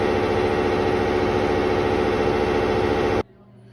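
Kirby Ultimate G Diamond Edition vacuum cleaner, taken apart for restoration, its motor running with a steady, loud, dense hum that cuts off abruptly near the end, leaving a faint residual tone.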